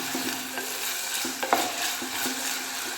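Amla thokku fried and stirred in a pan, a steady hiss of sizzling with repeated spoon scrapes at a regular rhythm, close and clear.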